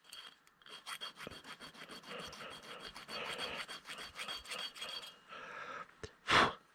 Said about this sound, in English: So I'm just going to go along this bottom edge, take that burr off.